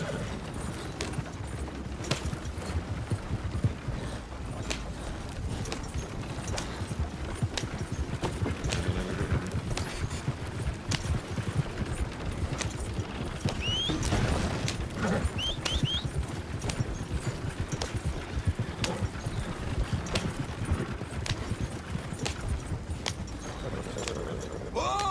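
Horse hooves trotting in the Red Dead Redemption 2 video game, a quick steady clip-clop under continuous broadband game noise, fairly faint and mixed with occasional other effects.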